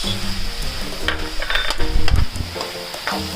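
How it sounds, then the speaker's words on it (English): Tomatoes tossed into capsicum, mushrooms and onions frying in a pan, loud sizzling with stirring scrapes and a few clatters of a utensil against the pan. "Finally, to our capsicum, mushrooms and onions, we now add our tomatoes."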